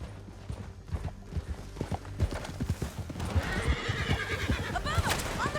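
Horses in Red Dead Redemption 2 clatter with rapid clip-clop hooves during a canyon ride, with a loud neigh and whinny rising near the end amid game noise and faint shouting.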